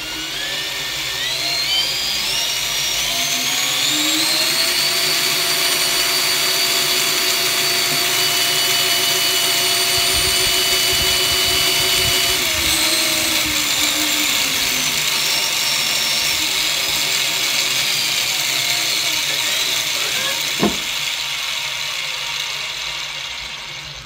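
A homemade low-RPM alternator generator rig strains at about 500 RPM, giving a steady, loud mechanical whine with rising and falling tonal hums and a rattling undertone, ending in a sharp knock near the end, with no talking.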